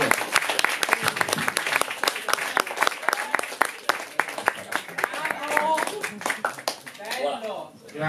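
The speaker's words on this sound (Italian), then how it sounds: "un altro applauso, ragazzi!" An audience at a stand-up comedy show claps and applauds loudly and densely, with scattered claps, while a voice speaks over the tail end.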